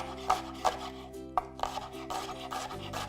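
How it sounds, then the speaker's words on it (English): Knife chopping leeks into slices on a cutting board in a kitchen, a few quiet irregular chops and scraping strokes over soft background music. "And then I like chopping them in half and then in half again."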